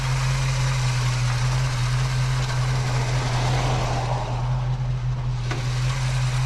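A Holden HK car engine idling a little high, holding a steady, close, even drone with a faint mechanical vibration and no talking.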